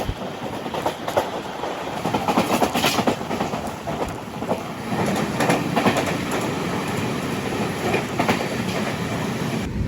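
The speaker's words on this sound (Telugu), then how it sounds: "Garib Rath express, Thiruvananthapuram north. కోచివేలు నుంచి ముంబై ఎల్టీటీ అయితే వెళ్తుంది బండి." The Garib Rath Express, running from Kochuveli to Mumbai LTT, passes at speed with a steady, loud rumble and rhythmic clickety-clack of wheels over rail joints throughout, heard close from an adjacent train.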